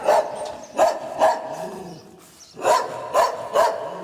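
A village dog barks in a nearby outdoor setting, sharp single barks repeated in two clusters with a short pause between.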